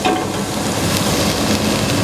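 Ginger garlic paste fries in a pan with a dense, steady sizzle and faint stirring scrapes, close and continuous with no talking.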